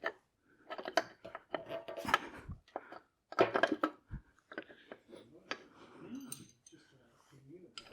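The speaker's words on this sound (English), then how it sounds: "So now we'll just put this rocker cover back on, put the bolts back in, and job done." Rocker cover fitted back onto a pushrod four-stroke motorbike engine and its bolts put back in, with sparse metallic clicks, taps and small knocks of parts and tools, fairly quiet and irregular.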